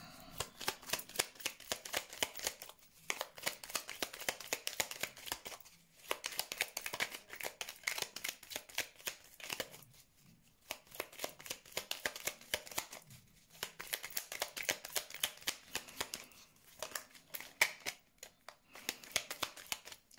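Playing cards are shuffled over and over for a tarot-style reading, crisp riffling bursts close to the mic broken by brief pauses, with no talking over them.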